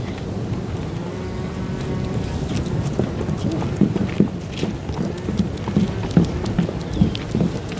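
Horse hooves clip-clop at a steady walking pace in an outdoor colonial-era theater scene, close and fairly clear, with soft ambient noise and faint background murmur but no clear talk.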